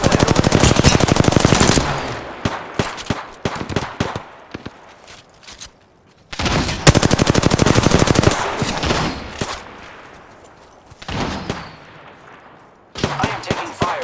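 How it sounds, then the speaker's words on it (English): Automatic weapon fire in the video game Apex Legends, loud rapid bursts of machine-gun shots in three long volleys separated by quieter gaps with scattered single shots and footsteps, close and harsh. "I am taking fire, friends."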